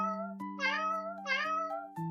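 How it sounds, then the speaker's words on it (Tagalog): A house cat meows twice in a row, the calls loud and close, alone with no talk, set within a Filipino children's story audiobook. "Ngunit ang kanyang ngiyaw"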